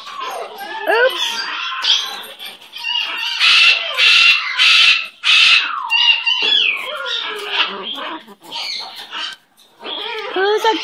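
A pet bird squawks and chatters at length, loud and close, with shrill calls and warbling bursts that run on through most of the stretch and drop out only briefly.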